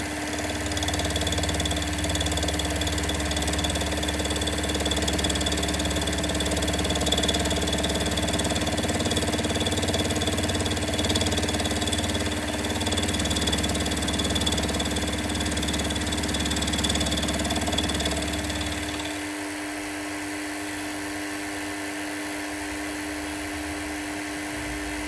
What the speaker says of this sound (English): Right, let's start the mill up. And gently wind across.